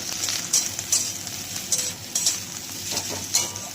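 Onion stalks frying in a pan for a Bengali morola fish bati chorchori, a soft steady sizzle with intermittent scraping stirs and light utensil clicks, close and fairly quiet, no talking.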